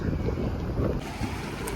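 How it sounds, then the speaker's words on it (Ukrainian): Strong wind at a beach in Agios Nikolaos, Crete, buffets the microphone in a constant loud roar, with gusty rumbling and no speech. "сьогодні знов вітер сильний"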